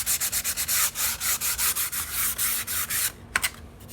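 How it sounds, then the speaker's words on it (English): Wood is sanded by hand with a sanding block and 150-grit paper in quick, even back-and-forth rasping strokes, about four per second, near and clear, ending with a few irregular scrapes. "I'm going to continue sanding. And I'm going to go ahead and use my sanding block for this."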